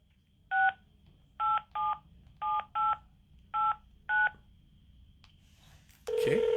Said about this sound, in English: Do a little dialing.